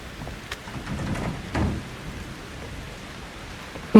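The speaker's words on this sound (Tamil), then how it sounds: "ரத்த மழை இன்னும் நிக்கல." Steady rain hisses in the horror video game Outlast 2, with a low rumble of thunder swelling briefly partway through. A short sharp knock comes at the very end, and no one speaks.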